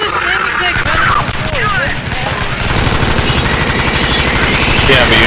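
Rapid automatic gunfire rattles steadily from a gun in the sci-fi shooter Alien Swarm, dense and continuous throughout, with players talking over it.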